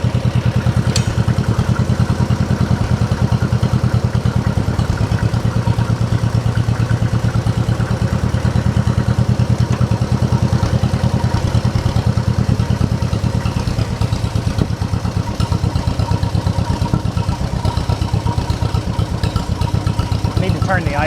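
An old tractor engine idles steadily at close range with a low, even chugging throb that holds for the whole stretch, restored for a threshers reunion and fitted with a chrome exhaust pipe.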